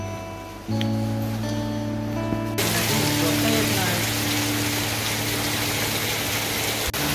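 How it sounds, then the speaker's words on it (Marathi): Heavy afternoon monsoon rain in the Konkan pours down in a dense, steady roar after a quieter start with a low hum. "दुपारचा बघा किती पाऊस लागतोय, जोरदार पाऊस"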